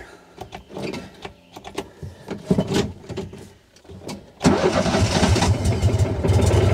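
Starting a Mahindra Retriever 750 side-by-side, a starter cranks in a choppy, stuttering rhythm for several seconds before the engine catches and settles into a loud, steady idle close by.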